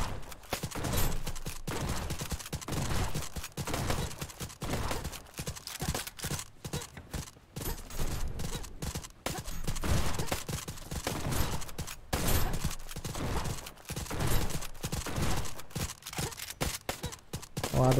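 Dense action in the game Black Skylands with rapid, overlapping shotgun bursts and impacts, continuous and loud, with no clear pauses between shots.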